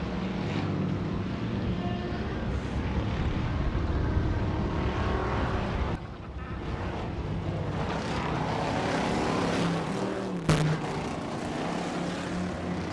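Off-road sportsman class race trucks roar down the front stretch of a dirt oval at a TORC event in Chicago, a dense, continuous engine drone with a brief louder burst near the end.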